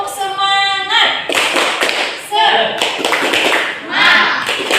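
A classroom of Indonesian students does a patterned group clap-and-chant cheer during a religious lesson, loud rhythmic bursts of clapping in short phrases, mixed with voices chanting and a teacher speaking between claps.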